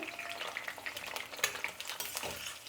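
White brinjal softening in a pan with sizzling oil, stirred repeatedly with a spoon that scrapes and clinks against the pan in a steady close rhythm.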